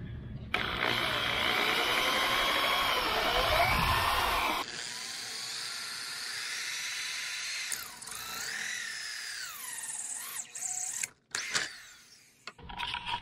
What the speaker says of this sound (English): I used this a really small drill bit for a pilot hole